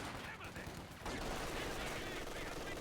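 Machine gun fire in the strategy game Company of Heroes 2, dense, rapid bursts that thicken into a sustained rattle of gunfire, with other battle noise mixed in.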